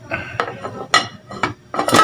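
A lid is set back onto a cooking pot on a gas stove, giving several sharp metallic clinks and scrapes spaced over two seconds, the last one loudest, with no talking.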